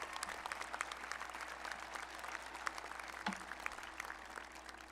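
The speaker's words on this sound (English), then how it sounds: "Can we have another round of applause for our student speakers?" An audience applauds at an evening high school graduation ceremony held in the rain, a steady, dense patter of many hands that sounds somewhat distant and soft throughout.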